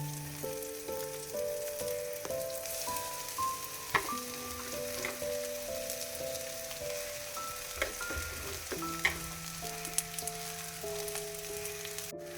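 Stinging nettle leaves sizzle and fry in a clay pan while being stirred, a continuous close crackle with light scraping strokes and no talking.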